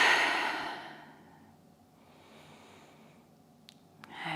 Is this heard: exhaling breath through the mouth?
yes